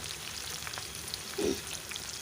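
Onions frying golden in a pan with green chillies for a meal maker capsicum curry, a quiet, even sizzle with one brief soft bump partway through.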